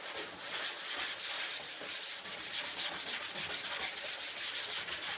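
A plastic scraper rubs steadily across a freshly hot-waxed snowboard base, a Capita Mercury 2025, stripping off leftover wax in a continuous dry, raspy scrape with quick repeated strokes, close and fairly even in loudness throughout.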